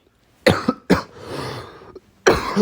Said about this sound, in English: Sorry, I got a bad cough.